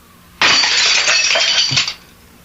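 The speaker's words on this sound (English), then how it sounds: "I just put my hand toward that goblet, and it shattered" A glass goblet shatters in a sudden loud burst of breaking glass, tinkling and crashing for about a second and a half before stopping abruptly, heard alone in a quiet room.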